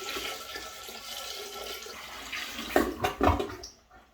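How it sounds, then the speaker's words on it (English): A household toilet flushes after water is poured into the bowl to start a siphon, a steady watery rush building into two loud gurgling surges near the end before trailing off into quiet. "let's see what happens when I flush this thing"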